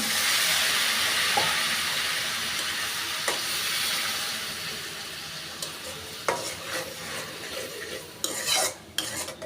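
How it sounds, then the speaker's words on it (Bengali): Spice paste of turmeric, chili, coriander and salt sautéing in a pan, a constant sizzle and hiss broken by repeated sharp scrapes and clinks of a utensil stirring against the metal. "এখন আমি মশলাটা কষিয়ে নিব"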